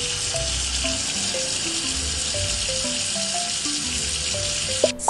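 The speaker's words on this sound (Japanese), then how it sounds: "お風呂にお湯を入れよう。" Water gushes steadily into a tub, a constant hissing rush under light, chiming game tones, with a brief splash near the end.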